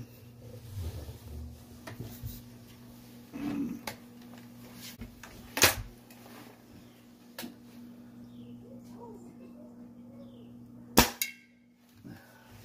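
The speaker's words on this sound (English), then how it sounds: "we're going to do a little shooting from right here on the landing in the stairwell" A gun called a possum eliminator fires from a stairwell landing indoors, with a couple of sharp, isolated shots a few seconds apart over a quiet room.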